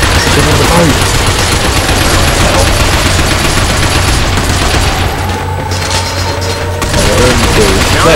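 Dense, loud gunfire from the Binary Domain shooter as players fire on robots, continuous bursts and booms packed together for several seconds, with a brief dip before the shooting swells again.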